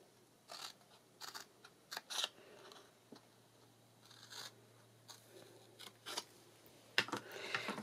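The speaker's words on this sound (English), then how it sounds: "So if we just cut up these score lines that we made" Scissors snip through cardstock along scored lines for a slimline faceted paper box, a series of short, crisp cuts spaced irregularly, close and fairly quiet with no talk.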